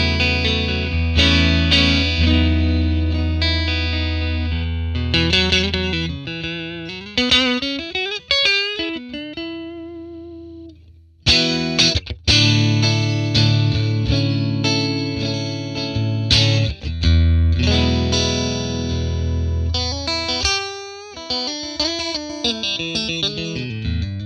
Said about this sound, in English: Very nice, very chimey, as you would think of a Fender amp.